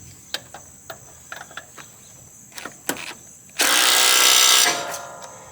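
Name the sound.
tightening mower blade bolt with a power tool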